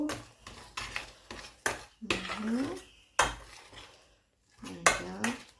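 Spoon clinking and scraping inside a pot while stirring a parsley soap mixture, with irregular metallic knocks and scrapes close up, and a voice speaking softly between them.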